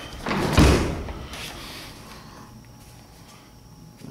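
A door rolls shut with a loud thud early on, followed by a fading rumble and quiet room tone.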